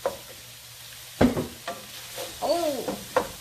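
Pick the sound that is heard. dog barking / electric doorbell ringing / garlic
garlic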